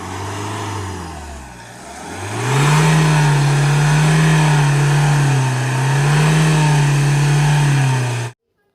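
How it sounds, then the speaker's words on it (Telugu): A 2013 Mahindra XUV500 engine is revved close by, dipping then climbing to a loud sustained rev that rises and falls in two long swells before cutting off abruptly. "కొంచెం యాక్సిలేషన్ చేయి, యాక్సిలేటరీ"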